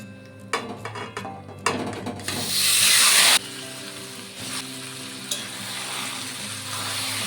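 Marinated mutton added to hot potato-frying oil with bay leaves, cloves, cinnamon and cardamom. A burst of loud hissing sizzle follows a few clinks of utensils, then it settles into a steady, quieter frying crackle up close.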